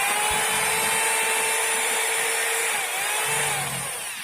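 A rotary hammer drill runs in chisel mode with the hammer action not engaging, so only its motor is heard: a loud, steady, high-pitched electric whine that holds for a few seconds, then dips slightly toward the end.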